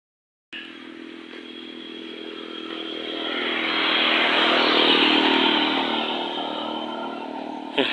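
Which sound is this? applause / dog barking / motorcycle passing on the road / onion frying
motorcycle passing on the road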